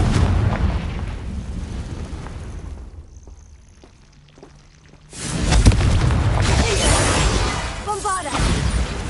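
Bombarda and Confringo explosion spells cast in Hogwarts Legacy: a loud, rumbling blast that fades into a quiet lull, then a sudden heavy boom that keeps roaring and crackling until the end.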